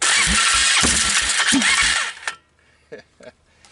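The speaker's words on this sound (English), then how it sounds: "It spit the carburetor off." A Polaris Trail Boss 325 ATV engine cranking and briefly firing, a loud close sputtering burst for about two seconds as the carburetor spits off, then cutting out to near quiet with a few small knocks.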